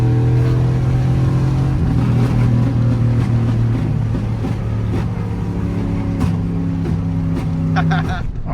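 Car engine revving and accelerating hard in second gear, a loud steady drone with rising tones, heard from inside the moving car with talking over it.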